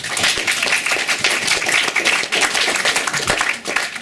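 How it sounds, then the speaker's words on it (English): A poetry evening audience at a festival claps loudly and continuously, a dense close wash of many hands that keeps going without a break, with no talking. "Round of applause for Avril."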